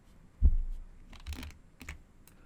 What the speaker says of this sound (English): Now let's undo this by pressing Ctrl Z